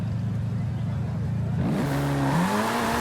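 A KTM X-Bow sports car engine in the video game Forza Horizon 5 drones at a steady pitch, then revs upward through gear changes, loud and close, with a voice talking over it.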